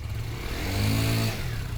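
A Honda Beat scooter fitted with light CVT rollers revs up, its engine note swelling into a loud, rising roar for about half a second before dropping back to a steady idle hum.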